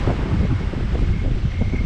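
Wind on a river rapids ride at an amusement park, a loud continuous low rumble and buffeting against the microphone that holds steady throughout, with no voices.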